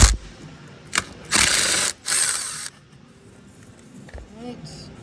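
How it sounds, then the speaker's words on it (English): Ratchet clicking as 10mm bolts come off a 2009 Chevy Malibu during a thermostat change, a few short bursts of rapid pawl clatter, close and fairly loud, with brief talk and quiet handling between them. "I'm going to go ahead and take these bolts out"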